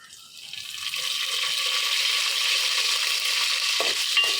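Cloves and bay leaves sizzle in hot oil in a pan, with a steady bright frying hiss as they are stirred, growing louder and then holding, close and without talk.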